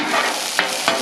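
Steady, close sizzling and crackling of salmon frying on a hot griddle, with a couple of soft clicks or scrapes breaking through.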